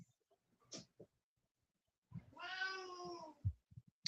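An indoor cat meows for a treat: one long, clear, drawn-out meow in a quiet room, preceded by a short faint chirp and followed by small scuffling sounds.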